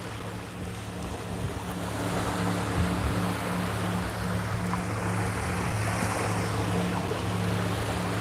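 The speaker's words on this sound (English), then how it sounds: "There's a little boat in the background." A small boat's engine drones low and steady in the distance off Cape May, New Jersey, beneath the wash of ocean waves and wind, continuous throughout with no voices.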